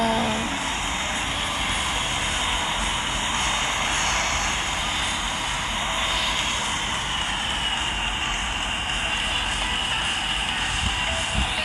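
Fixed-wing airplane coming in to land, a loud steady engine roar with broad rushing air noise that holds throughout, close and continuous with no talking.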